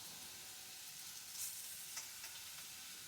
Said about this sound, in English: I add the tomatoes to the middle. And just let them start cooking for a while.